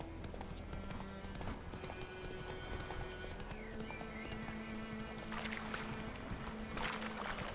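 Horse hooves gallop in The Witcher video game, a fast steady clip-clop rhythm running throughout, close and moderately loud, with water-like ambience and faint game sounds behind it.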